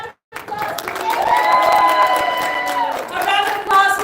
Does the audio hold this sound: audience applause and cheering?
yes